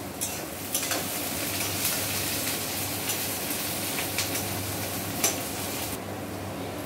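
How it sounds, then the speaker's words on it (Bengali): Onions frying in a pan with ginger-garlic paste stirred in, a steady close sizzle with scraping stir strokes and light utensil clinks throughout, no voices. "পেঁয়াজটা মোটামুটি ভাজা হয়ে গেছে, এবার আমরা আদা রসুন বাটাটা এর মধ্যে মিশিয়ে দিলাম"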